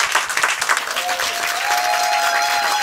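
A live radio concert audience claps loudly and steadily at close range, a dense wash of applause with a faint sustained tone emerging beneath it partway through.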